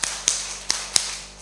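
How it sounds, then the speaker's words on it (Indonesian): Four crisp hand claps at close range, spaced unevenly over little more than a second, during a counting-by-claps exercise, with no talking over them. "tepuk 4,"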